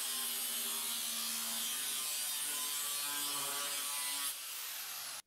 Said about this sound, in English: get the straight edge again, clamp it to where the marks are, and I'm going to score it all the way along